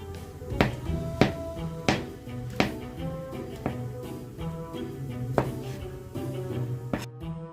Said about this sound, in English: let's start chopping the mushrooms